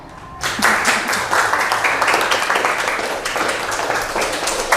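A classroom of students claps after a math presentation, a burst of steady applause starting abruptly and continuing loudly to the end.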